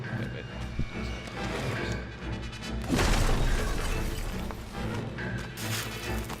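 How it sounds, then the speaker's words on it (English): Door being smashed through in the Friday the 13th video game, a loud splintering crash with a sharp burst near the three-second mark over ongoing game ambience. "It was a very loud door breaking"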